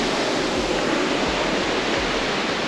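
Loud rushing water on Ozren mountain in Serbia makes a dense, continuous roar that fills the whole clip at close range, with no pauses or other sounds standing out.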